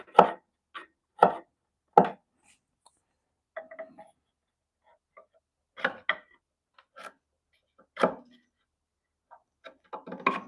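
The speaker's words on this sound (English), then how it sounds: "With a nice sharp chisel." Sharp chisel paring wood, a string of crisp, separate knocks and slicing taps spaced unevenly across a quiet background, close and clear.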